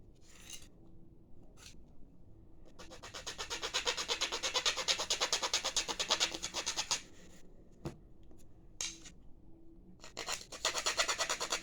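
Steady rasping and scraping as wood is cut and shaped by hand for a homemade bow, in long rhythmic bursts separated by brief pauses, close and fairly loud with no talking.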